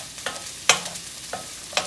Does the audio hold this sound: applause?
no